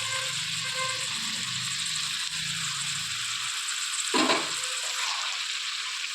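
A paste of ginger, garlic, onion and green chilli frying in a pan, making a steady bright sizzle throughout, with a brief scrape of a spoon near the end.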